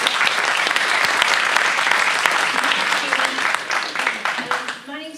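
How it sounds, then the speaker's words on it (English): Audience applause at a National Deaf Children's Society presentation: sustained dense clapping from a crowd indoors, steady and loud, tapering off near the end as a voice begins. "Give a round of applause."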